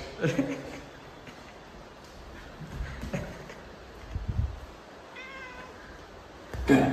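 A pet cat gives a few meows, the clearest one a short tonal cry late on, heard close amid household sounds and brief human voices.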